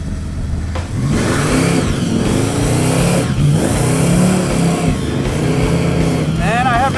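The Draguar and the Bone Stalker race head to head, their loud engines roaring and revving continuously up close while someone talks over the noise.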